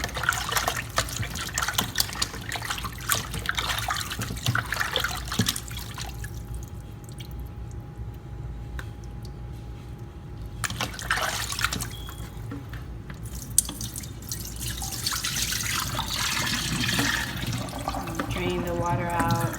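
Tap water runs and trickles into a container while raw chicken is washed in a kitchen for Ethiopian doro wot, a steady running and dripping sound with talk over it.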